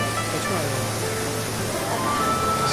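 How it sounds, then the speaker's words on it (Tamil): An artificial waterfall pours from a tree inside a large underwater-tunnel aquarium, giving a constant, close, rushing wash of water with faint voices mixed in. "அந்த மரத்துலேருந்து அந்த அருவி கொட்டுற மாதிரி ஒரு நேச்சுரலாக பண்ணியிருக்காங்க"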